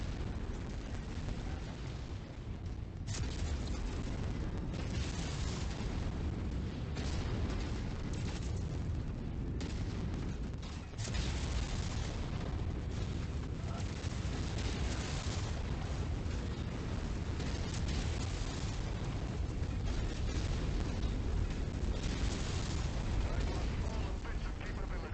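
Ammo explosions in the MechWarrior 5: Mercenaries video game, a continuous rumble of booms and blasts rolling one after another over game sound, with repeated sharp bursts standing out across the stretch.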